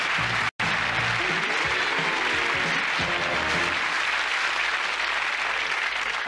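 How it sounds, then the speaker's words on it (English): Studio audience applause on the 1993 British TV snooker game show Big Break, a dense, steady wash of clapping from a large crowd that fills the whole stretch after a very brief dropout near the start. "Give him a clap."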